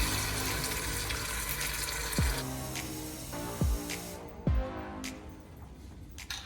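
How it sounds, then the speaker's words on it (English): Water from emptied tomato sauce jars poured into a pot of Italian tomato sauce, a continuous running gurgle with a few sharp glugs and drops, recorded close with no talk. "we're gonna fill up both of these jars with water and pour them in as well"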